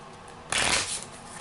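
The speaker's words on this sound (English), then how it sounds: "Okay, I'm shuffling." A deck of cards riffled quickly during a board game, one short papery burst of shuffling that rises sharply and fades within a second, close and fairly quiet.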